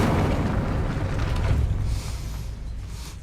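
The Incendio fire spell bursts in Hogwarts Legacy as a loud, roaring whoosh of flame that rumbles steadily and then eases slightly toward the end, with no talking.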